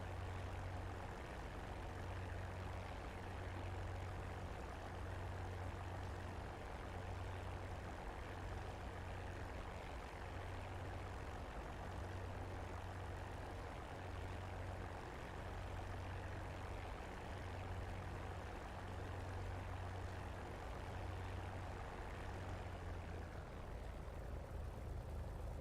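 A P-51 Mustang taxis in the DCS flight simulator, its piston engine idling with a steady, pulsing low throb and broad propeller roar, constant and close for the whole stretch with no talk.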